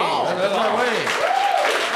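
A game-show audience applauds, a steady wash of clapping running beneath someone talking throughout.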